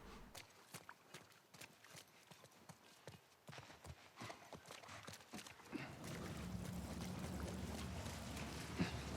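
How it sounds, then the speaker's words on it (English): Horse hooves clip-clop in a steady walking rhythm in The Last of Us Part 1, close and fairly quiet, later joined by a low continuous rumble; no distinct neigh stands out. "I was talking to the horse, not to Ellie."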